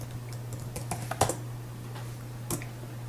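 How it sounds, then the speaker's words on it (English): Someone types the word Avast on a computer keyboard, a short run of light plastic key clicks with uneven rhythm, including one sharper press near the middle and a last tap after a brief pause, over a steady electrical hum. "I will type Avast right"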